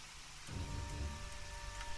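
Steady rainfall in a modded video game starts abruptly and keeps pattering evenly, a broad hiss of drops with a low rumble underneath, no voices.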